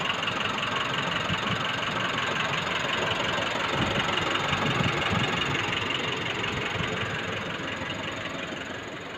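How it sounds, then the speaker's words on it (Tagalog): Car engine running with a shorted air-conditioning compressor, its clutch engaging while the motor drones steadily and loudly at close range, no voices. "Yung clutch tunog."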